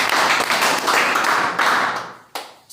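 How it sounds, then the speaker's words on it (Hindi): A short burst of hand clapping from a small group answering a quiz question, rapid and close, fading briefly and then a final clap near the end. "ताली बजाइए।"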